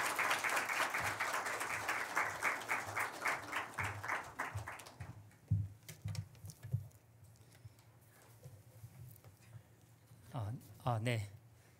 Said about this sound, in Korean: 박수로 우리 영광 돌리면서 초대하도록